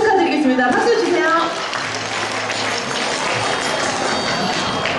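Applause at a youth practical music competition awards ceremony fills the room right after a prize announcement, with dense clapping starting loud and then settling into a steadier, slightly softer patter while voices mingle beneath it.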